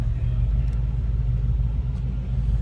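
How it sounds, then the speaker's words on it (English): A 1955 Oldsmobile 88 sedan idles after a cold start, its dual exhaust giving a loud, deep, steady rumble close by with slight fluctuations. "Good sounding car with that dual exhaust."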